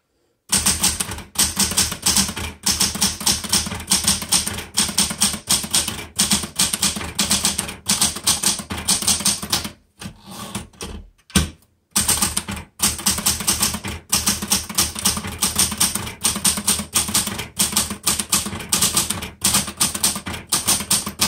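Steady typing on a vintage Smith Corona Galaxie Twelve manual typewriter, a close, dense run of sharp key strikes in bursts, broken by a brief pause midway before the rapid clacking resumes.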